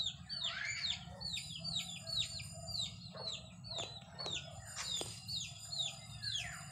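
Chickens clucking and calling among young birds, with a faint crow-like call, over a steady low background hum and other bird chirps, heard at a moderate distance.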